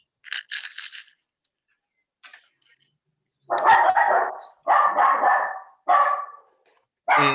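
A dog barks close to an open microphone during an online lecture, with a short volley of sharp, loud barks broken by brief silences, no talking.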